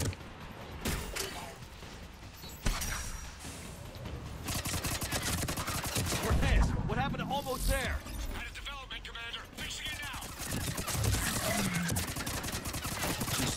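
Heavy gunfire in a Mass Effect firefight, rapid bursts and sharp shots rattling continuously and loud, with creaky mechanical clatter, under excited talking.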